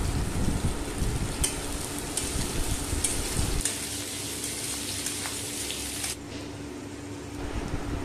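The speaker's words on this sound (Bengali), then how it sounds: "রসুন কুচি দেওয়া হবে" Chopped garlic added to a hot pan for a mixed vegetable curry sets off a dense crackling sizzle, loud and close, gradually settling into a softer steady fry with no talking.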